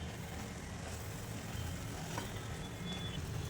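A poha and sugar mixture cooking in a pan while being stirred gives a steady soft sizzle and scraping hiss, continuous and fairly close.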